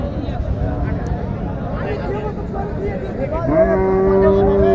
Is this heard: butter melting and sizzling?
no